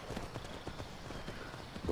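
Horse hooves clip-clop in Skyrim, a steady run of soft, close footfalls over a low murmur of game ambience, with no voices.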